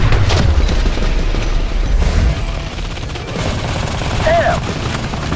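Suppressing gunfire in the shooter game Modern Combat 3, a loud, dense fusillade of automatic shots with booming low rumble, steady and continuous throughout.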